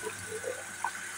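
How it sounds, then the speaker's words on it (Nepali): Water running from a kitchen tap in a small apartment kitchen, a steady low wash of flow with faint splashy blips as a container fills, no voices. "पानी सकेको छ, पानी थाप्नु पऱ्यो"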